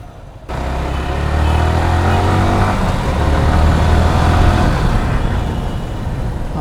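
A second-hand motorcycle in very fresh condition starts up and runs steadily with a loud, rough engine drone that holds through to the end, with no talk.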